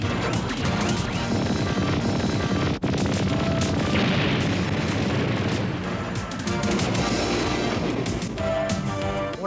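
A winged cannon on a cartoon spaceship fires a relentless barrage of blasts and crashing explosions. The volley is loud and dense and runs without pause for nearly ten seconds.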